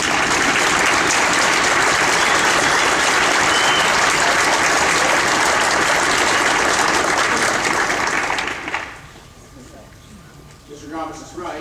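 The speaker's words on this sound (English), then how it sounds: "So one quick round of applause for" A concert audience at a county band performance in a high school gives loud, dense applause for the band directors, which holds steady for about eight seconds and then drops away quickly.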